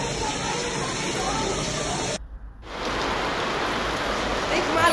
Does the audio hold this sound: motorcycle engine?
no